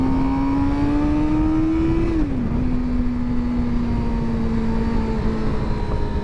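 A 2023 Suzuki GSX-R600 sport bike engine revs above 6,000 rpm while riding. The loud, steady whine climbs in pitch, dips sharply at a gear change, then holds a continuous drone.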